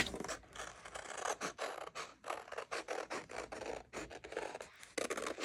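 Scissors cut out a shape traced on paper for a handmade gift, giving a close series of quick snipping and scraping strokes in irregular bursts separated by short pauses.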